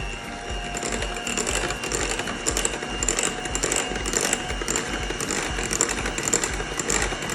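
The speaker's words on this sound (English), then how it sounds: "So we're going to whisk this all together." Electric mixer whisking eggs with white and regular sugar for brownie batter, a steady whirring buzz with a faint rattling, clicking texture against the bowl, continuous and fairly close with no talking.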